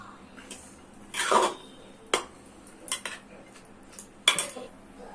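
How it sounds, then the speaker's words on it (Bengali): A spatula clinks and scrapes against a cooking pot while turmeric is stirred in, a few short sharp metallic knocks spaced out over a quiet kitchen background. "হাফ চামচের মতো হলুদ দিয়ে দেবো, খুন্তিতে একটু নেড়ে দেবো।"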